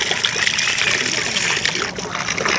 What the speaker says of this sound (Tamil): இப்போ ஒரு ஆற்று தண்ணியில் கழுவுறோம்.